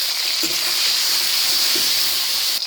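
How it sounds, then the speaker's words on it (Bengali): Cauliflower pieces with salt and turmeric frying in white oil, a loud continuous bright hiss and sizzle close up, with a couple of soft knocks from the pan and no voices. "এখন ফুলকপিটা ভেজে নিচ্ছি।"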